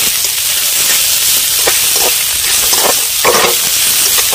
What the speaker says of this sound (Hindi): फूल गोभी को भी हमने डाल दिया और सभी को इस तरह से हम चला लेते हैं